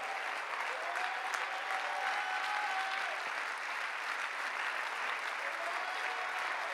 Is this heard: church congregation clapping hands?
yes